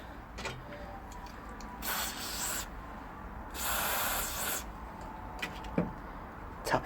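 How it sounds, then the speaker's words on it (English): Aerosol spray on stuck valve parts from a Rover V8 cylinder head during a rebuild, with two close, sustained hissing bursts and light metallic handling noises between them. "So what I'm going to do is spray it again."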